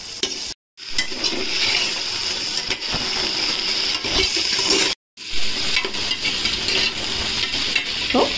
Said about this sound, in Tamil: இப்போ நம்ம எல்லா காயும் ஒன்றா போட்டு ஒரு 10 நிமிஷம் அது வதக்கிக்க போகிறோம்